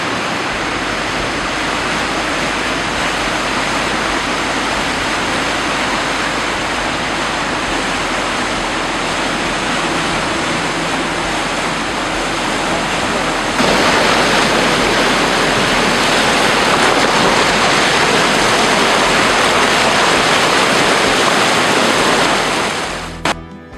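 Rapids on the Magnetawan River roar as a loud, dense, continuous rush of whitewater heard up close, swelling slightly louder partway through and cutting off abruptly at the end.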